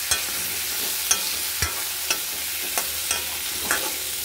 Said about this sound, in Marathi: हळद हे टाकून हे चांगलं फ्राय करून घेऊया आपण